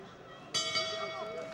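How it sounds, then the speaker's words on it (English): A boxing bell rings once to end the third round of a professional fight, a bright metallic clang with a lingering ring under arena noise and commentary. "Bell goes for the end of the third."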